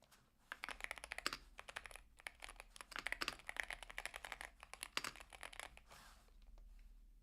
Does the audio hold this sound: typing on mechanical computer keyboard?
yes